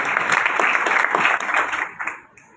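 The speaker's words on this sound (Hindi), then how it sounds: "खुश है तो खुशी का इजहार जरा तालियां बजाकर करेंगे" A congregation at a gathering bursts into sustained applause, a dense wash of many hands clapping together that holds steady for over a second before thinning and fading out.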